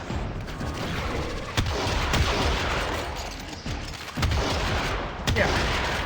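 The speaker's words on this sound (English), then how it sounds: "It seems they just blow up on me." Enemies exploding in the video game Warframe: a dense barrage of booming blasts and gunfire-like cracks, with sharp bursts punctuating a continuous loud, chaotic roar of combat.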